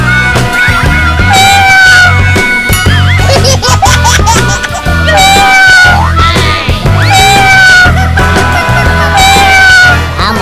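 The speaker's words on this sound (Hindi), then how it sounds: "अबे ये बिल्ली की आवाज कहाँ जा रही?" A small cat trapped somewhere gives repeated, high-pitched meows that rise and fall over a loud, dense background of music and other sounds, close and clearly heard throughout.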